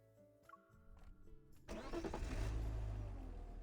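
In the game Love and Deepspace, a car engine cranks and catches after some soft musical tones, then settles into a loud, rising rumble that holds to the end.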